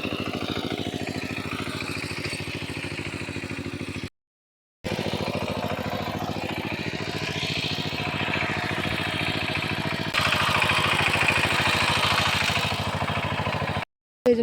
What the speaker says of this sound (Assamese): এইফালে অজিত ভাইটিয়ে ট্ৰেক্টৰ বাই আছে